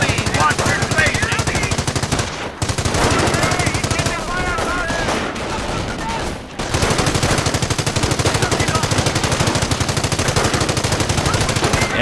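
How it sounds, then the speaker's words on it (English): Rapid rifle and machine-gun fire in a WWII Normandy battle from the game Company of Heroes, loud and sustained with dense rattling bursts, broken by two brief lulls. "Taking rifle fire!"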